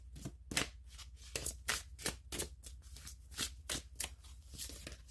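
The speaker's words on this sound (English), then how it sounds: "I'll do a live shuffle on camera, and then I'm just like off here shuffling them by myself." Tarot cards are shuffled by hand in a steady run of crisp, riffling bursts, each ripple of cards followed by a short gap, close and moderately loud with no voices.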